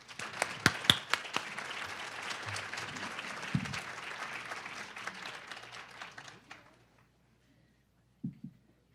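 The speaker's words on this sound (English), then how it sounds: "So let's give a round of applause." An audience at a morning nutrition security event in Maryland bursts into applause, dense clapping that holds steady for about six seconds and then stops, leaving a brief pause before a short sound near the end.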